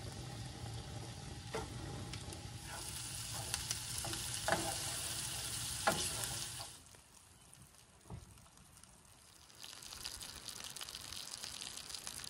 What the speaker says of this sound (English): The coals are ready to go, so we're gonna put the fish on.